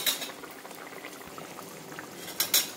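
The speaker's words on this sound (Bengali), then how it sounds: "ঢাকনা বন্ধ করে আমি একটু ফুটতে দেবো।" Egg and potato curry bubbling gently in a covered pot, a soft continuous simmer with a couple of faint utensil clinks near the end.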